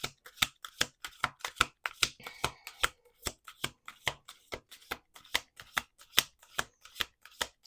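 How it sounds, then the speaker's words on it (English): A deck of tarot cards being shuffled by hand, a rapid series of crisp riffling snaps and taps in an uneven rhythm, close and clear with no talk. "Let's do 2 more shuffles."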